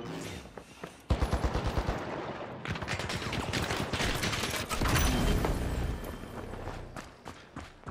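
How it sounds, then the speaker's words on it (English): Rapid automatic gunfire in the video game THE FINALS, dense bursts of shots and fusillades layered over each other at close range, loud and sustained for nearly eight seconds with only brief dips. "I am being very shot at."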